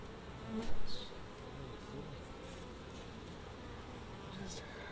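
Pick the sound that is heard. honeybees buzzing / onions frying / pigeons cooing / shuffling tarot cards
honeybees buzzing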